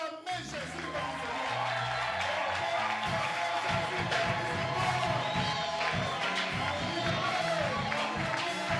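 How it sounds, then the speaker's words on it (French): A church congregation cheers and acclaims Jesus, a dense, sustained crowd roar with whoops that fills the space steadily from start to finish. "Bon, on va acclamer Jésus."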